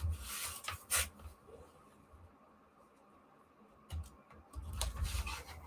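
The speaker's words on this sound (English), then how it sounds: "Burnish that edge if your chipboard will handle it." A tool rubs along the folded edge of chipboard in short scraping strokes, a burst near the start and more near the end, quiet and close with a hushed pause between.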